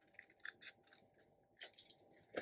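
Scissors snip and slice through pattern paper while trimming a scrapbook layout, a few quiet close cuts spaced irregularly with soft pauses between.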